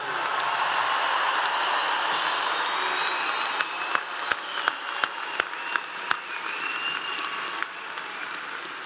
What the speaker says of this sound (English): How about another really loud round of applause for our newest graduates?